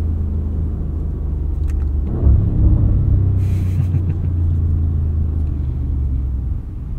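A 2024 Audi SQ7 with quattro all-wheel drive launching hard on snow, heard as a loud, sustained low engine rumble that swells as it accelerates, steady from inside the cabin with no talking.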